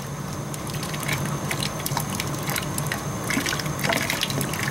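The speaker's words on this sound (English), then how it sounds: "Grabbing the oil off top of the water." Water trickles and splashes steadily while oil is skimmed off the surface inside a commercial or residential steam heating boiler with a failed heat exchanger, a close, continuous liquid gurgle with faint drips and a steady tonal hum.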